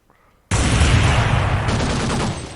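Rapid, loud automatic gunfire from the video game Counter-Strike: Global Offensive, a dense sustained burst that begins abruptly and runs for about two seconds.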